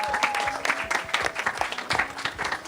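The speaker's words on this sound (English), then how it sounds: "Everybody, another round of applause for our winners." Audience at an arcade game tournament applauding the winners, with a burst of quick, close hand claps forming a bright, busy patter that stays even throughout.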